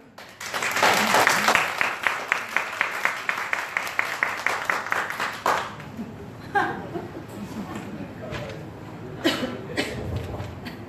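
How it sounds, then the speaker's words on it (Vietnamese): An audience applauds loudly to welcome a speaker at a protein product event, with dense sustained clapping for about six seconds that then thins into scattered claps, murmurs and a few coughs. "các anh chị hãy cùng vỗ tay thật lớn"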